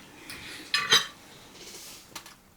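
A metal ladle clinks against a pot and plate while lentil and vegetable soup is served, a few sharp close clanks and scrapes amid quiet kitchen room tone.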